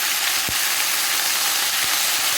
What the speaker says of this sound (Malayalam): കോവയ്ക്ക ചേർത്ത് നമുക്ക് നന്നായിട്ടൊന്ന് വഴറ്റിയെടുക്കണം.